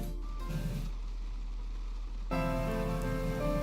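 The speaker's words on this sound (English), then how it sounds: "It's still continuing to pour down even now." Heavy rain pours steadily at night, a dense constant wash of drops that swells louder partway through.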